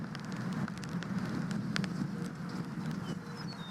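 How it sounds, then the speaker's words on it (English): Steady rain hissing on surfaces during a spring thunderstorm chase near Tulsa, Oklahoma, heard close and continuous with a few brief clicks and no talking. "It's already starting to rain on me quite a bit."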